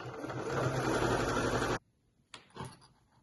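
A sewing machine runs steadily through thick, bulky fabric while stitching a snood, a continuous close whir that stops abruptly, followed by a couple of faint handling clunks.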